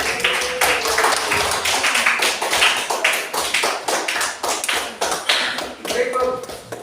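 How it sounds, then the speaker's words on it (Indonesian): A classroom of students applauds, a dense burst of hand clapping that swells and fades in uneven waves, close by and fairly loud. "Oke, kita berikan tepuk tangan."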